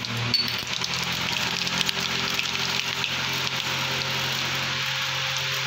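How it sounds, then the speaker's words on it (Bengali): Nigella seeds sizzle in hot oil in a pan while making radish greens bharta, a steady close hiss and crackle throughout, with no talking. "তেলটা আমার গরম হয়ে গেছে, এবার ফোড়নে দেবো কালো জিরে"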